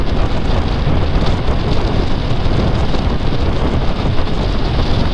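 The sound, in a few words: wind noise through motorcycle helmet visor slider while riding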